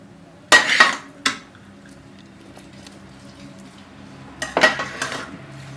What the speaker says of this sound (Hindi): तो जी हमारे चावल तैयार हो गए हैं ज़र्दा, हम इसको डिश आउट करने लगे हैं।